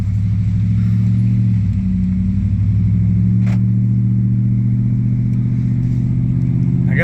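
A truck pulls out of a shop and drives off, its engine a steady, loud low rumble that holds throughout with slight revving and no talk.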